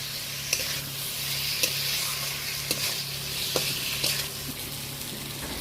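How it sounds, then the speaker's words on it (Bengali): Fried potatoes stirred through spices in a pan for a Bengali hilsa fish and potato cumin curry, a steady sizzle with occasional sharp scrape accents of the spoon, close and continuous, no voices. "আলুটা এই মশলার সাথে হালকা করে আর একটু নেড়ে চেড়ে নেব"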